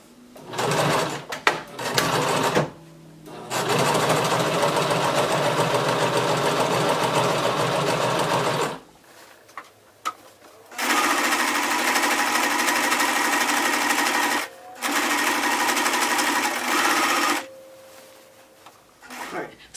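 A sewing machine top-stitches the hem of a dashiki in loud, steady whirring runs of several seconds each, with short pauses between them and a few clicks and clunks of handling at the start.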